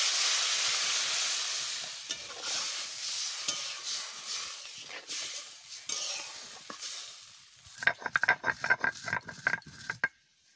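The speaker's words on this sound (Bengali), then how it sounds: "আমি জল ঢেলে দিচ্ছি।" Fried elephant foot yam pieces sizzle in a pan, then water goes in and the hiss falls away into a quick series of stirring clatters, close up.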